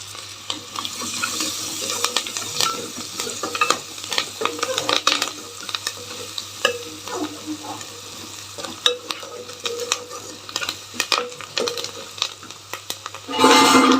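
Curry leaves crackle and sizzle in hot oil in a pan, with a busy run of close pops, spatters and stirring scrapes throughout and a louder burst near the end, no voices.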